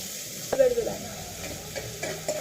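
Onions fry in a pan for Kurnool-style uggani, giving a soft, steady sizzle broken by a few scraping stirs of a spoon, close and quiet with no talking.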